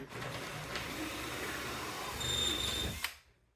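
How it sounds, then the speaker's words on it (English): Drill bit boring out a bad T-nut in a climbing wall, a steady close whirring grind that holds for about three seconds, then winds down and stops. "now I'm gonna go forward and actually allow that bit to cut."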